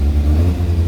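A 1995 Kawasaki ZZR1100 motorcycle engine runs steadily with a low, throbbing hum and a slight rise in revs, loud and close, with no voices.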